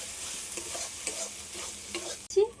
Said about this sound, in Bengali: সবগুলো একসাথে একটু ভালো করে কষে নেব